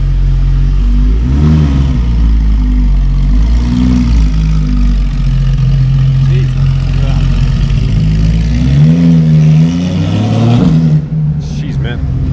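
A Porsche GT3 RS with straight-piped exhaust and its valves open revs loudly and close by, with several sharp rising throttle blips over a steady rumbling idle, ending in a cutoff.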